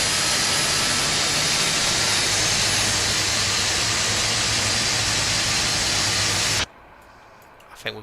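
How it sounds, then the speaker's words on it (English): Jet engines on a Felis 747-200 spool up in the X-Plane 12 flight simulator, a loud, steady broadband roar and hiss with a low hum beneath it. The roar cuts off abruptly near the end, leaving near silence. "We want to hear those engines start up."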